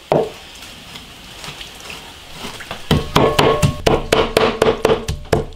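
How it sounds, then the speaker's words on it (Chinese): Minced meat is chopped with a cleaver on a board: after a few quiet seconds, a steady run of sharp, close, loud strikes begins and keeps an even rhythm. "现在把那个肉末剁一下。"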